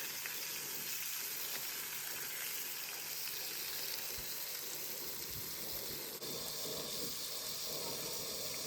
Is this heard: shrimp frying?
yes